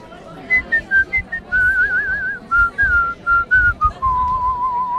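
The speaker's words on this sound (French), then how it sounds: "Bouge pas, je fais le sifflet parfait." A person whistles a wavering melody in short phrases, clear and close, with faint background murmur beneath the tune.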